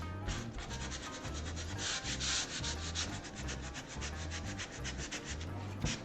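Steady rhythmic sanding of a wooden picture frame, rubbing off paint to give it a worn patina, with repeated back-and-forth strokes, close and continuous, with no talking.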